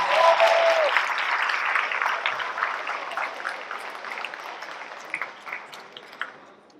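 Applause from a large school convocation audience after Dalton Sherman's speech, full clapping at first that gradually thins and fades with scattered claps near the end.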